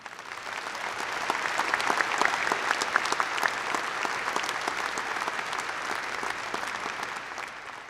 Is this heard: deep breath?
no